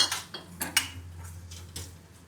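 A metal spoon stirs an onion and tomato mixture in a pan, making several quick close clinks and scrapes against the pan, louder at first and then softer.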